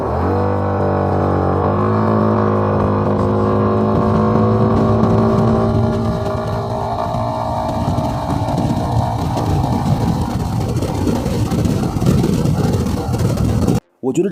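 A Lifan 318 250T scooter engine accelerates hard toward 120 km/h, its pitch rising in stepped climbs through the gears, with steady wind rush building close by as someone speaks over it.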